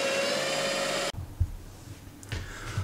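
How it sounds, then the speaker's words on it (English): A power drill runs a bit through a 3D-printed jig into a shaft, a loud steady whine that cuts off abruptly, followed by a few dull thumps and clunks of handling. "now the jig will guide the drill bit centered on the shaft"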